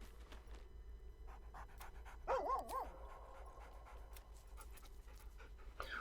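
A dog pants steadily in the video game Baldur's Gate 3, soft rhythmic breaths with a brief whimpering whine partway through, over a low background hum and no speech.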